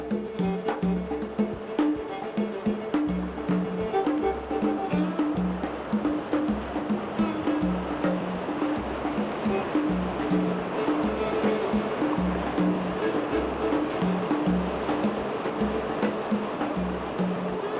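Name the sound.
whitewater river rapids in the Grand Canyon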